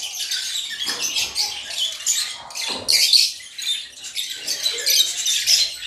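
Caged African lovebirds and cockatiels squawk and chirp in shrill, overlapping bursts throughout, a busy, fairly close chorus with no pauses.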